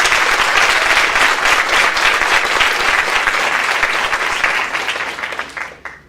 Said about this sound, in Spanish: Un fuerte aplauso para los panelistas, por favor.